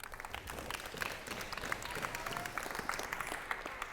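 A school audience claps and cheers for a sixth-grade boy called up to stand, a steady patter of many hands spread across the room, moderately loud and continuous throughout.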